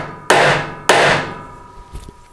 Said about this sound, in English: if I take a hammer to it and hammer it down,